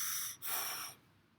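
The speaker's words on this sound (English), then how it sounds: "So again, vertical breathing," A single breathy inhalation, demonstrating vertical chest breathing, with a brief catch in the middle. It is close, fairly quiet and alone, with no talking.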